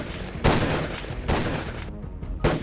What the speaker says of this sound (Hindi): इस बार कार के बिल्कुल पास आकर गोलियां बरसाते हैं।